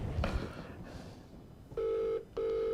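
A phone gets ready to place a call, giving two steady electronic tones, each held for about half a second with a short gap between, close and clear after a quiet stretch of room noise.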